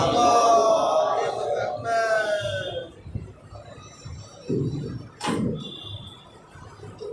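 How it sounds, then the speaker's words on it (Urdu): A Muharram majlis congregation answers the preacher's call with loud salawat, a massed chant rising in bursts after a single amplified voice leads off. "آواز بلند نعرے سلوات اللہم صلی علی محمد"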